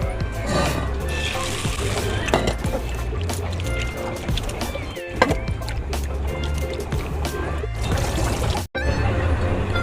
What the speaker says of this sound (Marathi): आपण ही चण्याची डाळ 2 ते 3 पाण्याने स्वच्छ चोळून धुणार आहोत